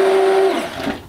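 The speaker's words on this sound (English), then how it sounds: "I love my immersion blender for this. I use it every morning." An immersion blender froths coffee with a steady high motor whine that cuts off partway through, leaving a brief rattling, sloshing tail, close and loud.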